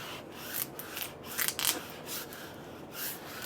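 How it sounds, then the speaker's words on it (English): A squeegee drags across adhesive vinyl laid on an acrylic sign, giving several soft rasping rubs and scrapes in uneven strokes, close up, with no talking. "I take my squeegee and"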